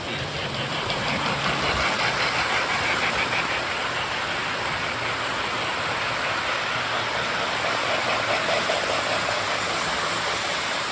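A late-1960s MPC-era Lionel toy train's small electric motor whirs continuously with a dense, hissing buzz, steady and unbroken throughout, close by.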